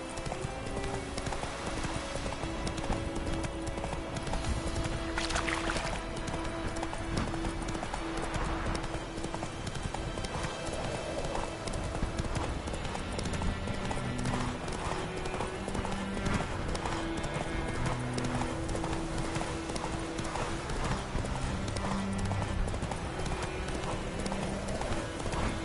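A horse gallops in the video game The Witcher 3, with rapid, steady hoofbeats continuing throughout over a constant tonal game background.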